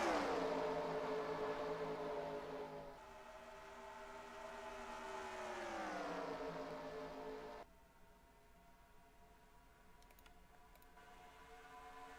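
Stock cars race at Pocono in NASCAR Racing 2003, heading down Long Pond Straightaway into the tunnel. A faint, steady engine drone shifts in pitch as the cars run, then drops to a quieter hum near the end.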